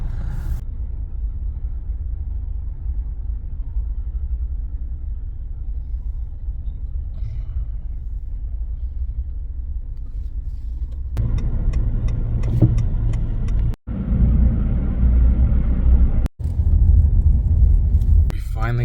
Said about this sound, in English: We finally got through the traffic.